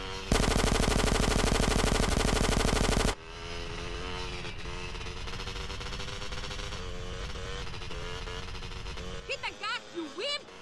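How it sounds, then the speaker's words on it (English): Sustained rapid machine gun fire from the video game GTA San Andreas, loud and dense for about three seconds, then a busy game mix continues with further sound effects. "Stop shooting that thing right next to my ear."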